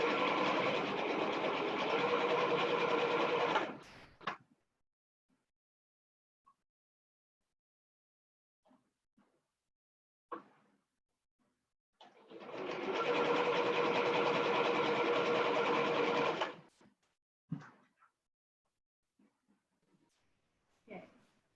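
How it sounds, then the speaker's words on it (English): Sewing machine stitching fabric in two long, steady runs of motor whir a few seconds each, separated by quiet stretches with faint handling clicks, near and moderately loud. "Keep checking and sewing."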